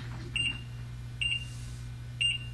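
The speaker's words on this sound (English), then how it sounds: "Test the beeper." Harmony washing machine beeper sounding in setup test mode, three short high electronic beeps at an even interval, each about a quarter second, over a low steady hum.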